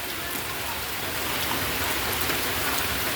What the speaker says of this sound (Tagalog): So dito nanggaling yung napakalakas na hangin. Hangin at ulan.